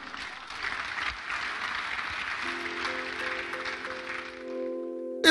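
Political rally crowd in Nigeria applauding steadily for several seconds, a broad wash of clapping that fades near the end as a steady electronic tone enters underneath.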